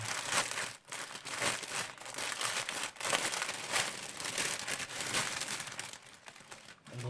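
Zip-lock plastic bags holding round diamond painting drills crinkle and rustle close by as they are handled and unpacked, a steady crackling that runs throughout with a few brief pauses.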